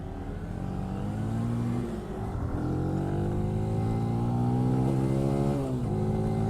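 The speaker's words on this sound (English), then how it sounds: "I'm already revving this bike to its eyeballs" A 2018 Benelli TNT 135 motorcycle engine revs hard and steadily, its pitch climbing and dipping through several throttle pulls, loud and close with no talking.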